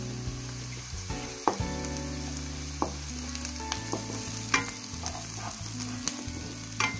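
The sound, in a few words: crushed garlic frying in a pan for brinjal prawn curry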